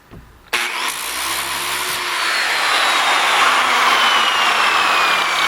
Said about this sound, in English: took the grinder,